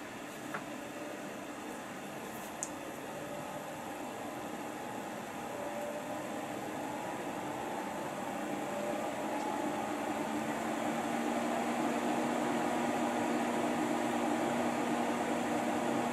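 Dell PowerEdge server powering up after repair, its cooling fans producing a steady broadband whoosh with a faint hum that gradually swells in level, running alone with no voices.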